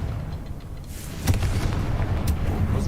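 A Confringo fire spell blasts in Hogwarts Legacy, a sudden booming burst about a second in followed by crackling rumble and another sharp impact, fairly loud with no talking over it.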